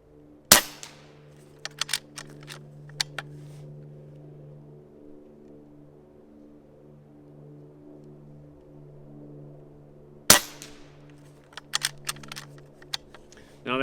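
An Umarex Gauntlet .25 caliber PCP air rifle fires two sharp, loud cracks about ten seconds apart, each followed by brief clicks and mechanical handling noises over a low steady hum.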